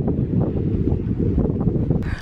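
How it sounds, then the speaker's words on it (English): Steady wind buffets the microphone at the Arashiyama Bamboo Grove in Kyoto, Japan, a dense low rumble with no talking. "it's really windy"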